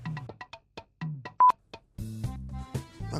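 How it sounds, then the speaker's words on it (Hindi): A phone announces an incoming call with a melodic electronic ringtone. Short beeping tones come first, then the tune plays steadily and fairly loud, with no talk over it. "लो फोन आ रहा तुम्हारा"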